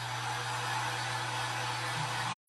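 A hair dryer drying a craft owl frame, a loud continuous whooshing blow with a steady motor hum that cuts off abruptly near the end.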